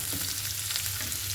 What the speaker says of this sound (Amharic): አንድ ላይ ሆነን መጥበሻ ላይ ዘይት አንድ ካረግን በኋላ ሽንኩርታችንን እናረጋለን።